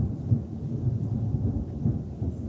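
Thunder rumbles steadily through a storm, a deep continuous low roll with heavier swells, rain faintly underneath and no talking.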